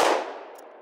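Single sharp report from a short-barrel revolver firing 38 Special +P ammunition, a loud crack with a quick ringing decay fading within a second, no voices.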